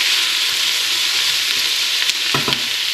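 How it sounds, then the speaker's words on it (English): Vegetables and garlic fry in a pan for a Bolognese sauce, giving a steady, close, bright sizzle throughout, with a few soft stirring knocks near the end. "we've got the veg cooking nicely"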